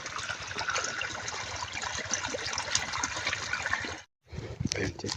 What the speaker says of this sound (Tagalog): Ay, may tubig.